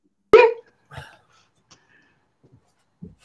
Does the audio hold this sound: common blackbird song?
no